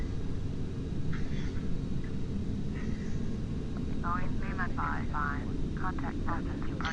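A simulated airliner roars down the runway and lifts off in Microsoft Flight Simulator X, a steady broadband engine rumble that runs throughout while a voice talks over it midway.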